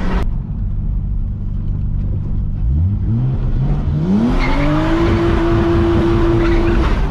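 A loud Ferrari sports car engine revs up, its pitch climbing steadily as it accelerates hard, with tire noise over a constant roar.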